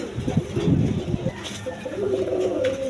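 Domestic pigeons coo in low, throaty, repeated rolling calls close by, with a few softer coos and faint background noise after.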